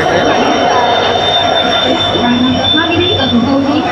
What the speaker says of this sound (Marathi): आलेली आहे आपली ट्रेन दादर सावंतवाडी तुतारी